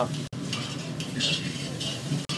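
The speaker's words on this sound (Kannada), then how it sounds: "ಹಸಿ ಪರಿಮಳ ಹೋಗೋವರೆಗೆ ಇದೇ ರೀತಿಯಲ್ಲಿ ಬಾಡಿಸ್ಕೊಂಡು" Capsicum sautés in a pan with a soft, steady sizzle and brief scraping stirs, plus a couple of light clinks from the utensil.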